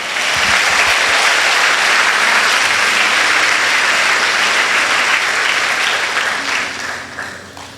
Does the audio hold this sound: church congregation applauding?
yes